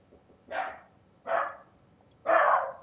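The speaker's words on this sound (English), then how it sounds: "My dog's going off again." A dog barks three times in separate, evenly spaced barks, moderately close and alone, with a faint low background hum between them.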